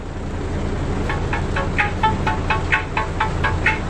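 Music playing from a flash drive through a DHD aftermarket head unit in an ex-taxi Toyota Etios Liva, heard as faint rhythmic tonal pulses under steady cabin hiss, quiet and slightly distant.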